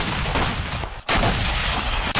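Rapid bursts of combat gunfire fired on command at the front line during the war, loud and close, with a brief break near the middle before the volley resumes.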